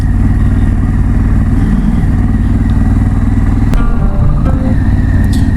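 Motorcycle ride on a touring trip in the Outer Hebrides, with a loud, close engine thrumming steadily and unbroken over wind and road noise, plus a brief click or knock near the end.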